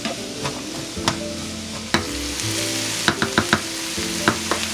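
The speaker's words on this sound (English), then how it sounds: "Going to saute. I'm just going to cook them down." Food sautéing in a pan on a home stove, a steady sizzle of frying with scattered clinks and scrapes of a utensil stirring, close and fairly loud with no talking.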